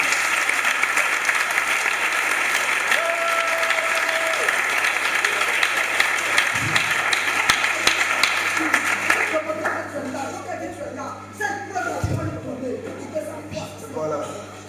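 A church congregation applauds the Lord in a loud, sustained wash of clapping that fills the room for about nine seconds before thinning into scattered claps, with voices and an ongoing hum underneath.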